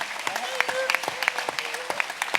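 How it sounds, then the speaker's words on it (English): Applause for a film crew from an audience at a VIFF 2014 screening Q&A, a steady patter of many hands with sharper individual claps standing out, while a voice speaks over it. "Round of applause everybody."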